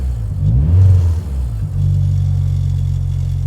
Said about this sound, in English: Then I'm revving.